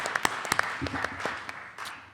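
Scattered audience applause at a university social justice awards ceremony: a few sharp, distinct claps at first, then thin sustained clapping that stays fairly light and steady.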